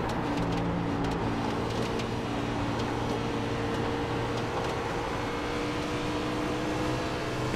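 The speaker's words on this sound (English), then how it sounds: "Just listen to the engine." A NASCAR race car engine in iRacing, a steady loud droning hum with a sustained low tone, held at near-constant pitch for several seconds with no talking.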